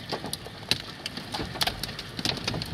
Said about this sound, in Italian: Adesso grandine ancora, la grandine è un po' più piccola di dimensione, ma solo di chicchi.